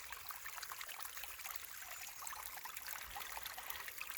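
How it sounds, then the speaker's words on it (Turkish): Steady rushing and trickling of the Yıldırımkaya stream, continuous and fairly soft, with no voices. "Evet suyun sesini duydum."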